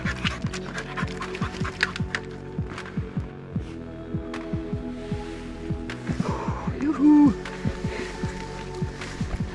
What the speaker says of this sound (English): Meet Balto, the family dog.